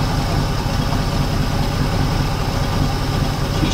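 A 1976 Plymouth engine idling after sitting 17 years, a steady, even low rumble with a constant mechanical hum, close and moderately loud, with no voices over it.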